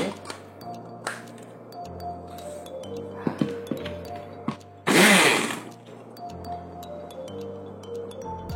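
An Oxone turbo electric blender whirs up spices in a loud burst of about a second, set among quieter kitchen clinks and low background hum.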